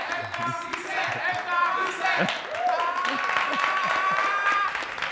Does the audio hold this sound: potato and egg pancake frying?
no